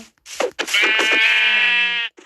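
A single drawn-out Minecraft sheep bleat, loud and close, wavering for over a second before cutting off, with brief soft clicks around it.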